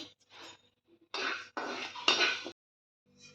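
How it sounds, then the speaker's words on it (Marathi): Urad dal is dry-roasted and stirred in a metal pan, making several scraping, rattling bursts of a spoon against the pan. The sound is close and fairly quiet, with short pauses between strokes. "आता शेवट उडदाची डाळ भाजून घेऊया आपण"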